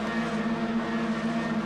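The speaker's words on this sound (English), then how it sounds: "The revs rise." Touring car engines held at high revs on the starting grid at Jerez, forming a loud, sustained, close buzzing roar with a steady pitch over a brief stretch.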